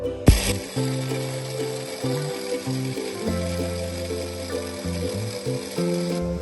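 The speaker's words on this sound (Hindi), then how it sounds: "अब हम करते हैं जी अच्छे से इसको मिक्स और ग्राइंड करते हैं।" A kitchen mixer grinder pulverizes whole spices for homemade white biryani masala, whirring and rattling in uneven bursts as the load shifts, close and moderately loud with no speech.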